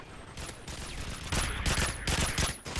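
Rapid bursts of gunfire hit the player in Call of Duty: Modern Warfare 3, with several overlapping volleys that grow louder and denser partway through, sounding close and continuous with no talk.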